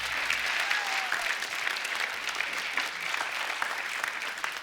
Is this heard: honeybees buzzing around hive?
no